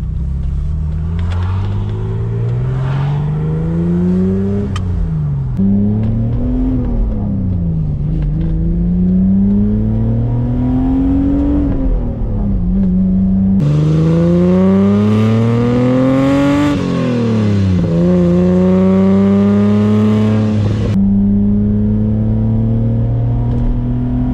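A BMW E30 320 converted to a larger engine, heard from inside while driving, loud and near, repeatedly revving up through the gears with rising whines and brief dips at each shift.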